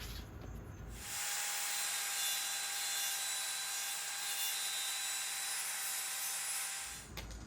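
A wooden board for a mirror backplate being trimmed with a power saw, a loud steady whining cut running about six seconds between quieter moments at each end.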